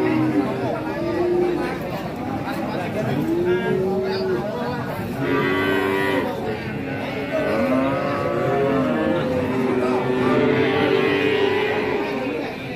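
A roughly four-month-old Simmental bull calf moos repeatedly at a cattle market in Tuban, its calls joined by other cattle amid a steady murmur of crowd chatter.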